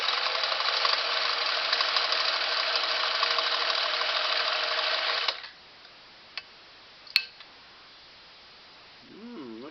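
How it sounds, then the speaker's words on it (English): A Singer 457 Stylist sewing machine runs a short straight stitch through four layers of denim, a steady, close, even whir for about five seconds, then stops, leaving a few faint clicks and a brief voice at the end. "I'll run a nice short number 15 straight stitch down the edge of that"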